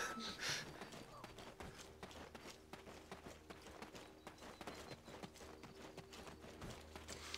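Horse hooves clip-clop steadily in the video game Black Desert, a continuous run of quick hoofbeats at moderate volume over faint game ambience.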